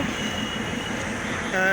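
The Down Chilahati Express, pulled by a WDM-series 6502 locomotive, pulls out of Saidpur station, a steady rumbling rail noise close by that swells and rises into a squeal at the end, with someone talking over it.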